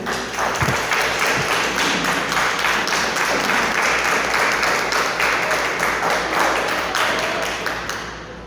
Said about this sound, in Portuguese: Vamos receber o irmão André com uma salva de palmas para Jesus.